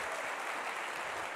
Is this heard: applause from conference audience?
yes